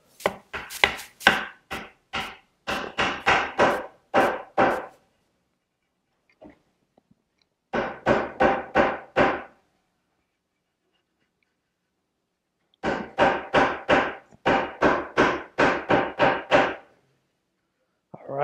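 A wooden center back slat is hammered into place, three clusters of rapid, sharp knocks spaced by silences, close and crisp with a few blows per burst and nothing else around them.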